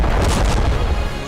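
A cargo ship blows up at sea after a ballistic missile strike: a loud, deep, sustained boom with heavy rumbling low end, filling the whole moment.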